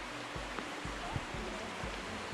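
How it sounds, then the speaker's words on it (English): A small creek, or burn, flowing through countryside in the Scottish Borders near Peebles, giving a steady, close rush of running water with low rumbling bursts underneath and no voices. "just pulled up beside this little burn, beck, tributary, or creek as we call it"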